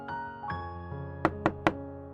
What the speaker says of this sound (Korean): 다시 문을 두드리는 소리가 들리자